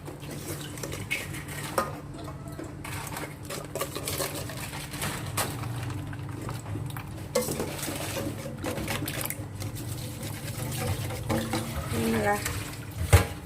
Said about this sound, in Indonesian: Oke, sekarang kita saring ya